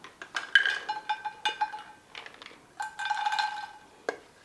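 Makhana (fox nuts) tipped into a metal pan for dry fruit laddus, a quick scatter of light rattling clinks and taps against the metal, close and fairly soft, in a few short bursts with no talk.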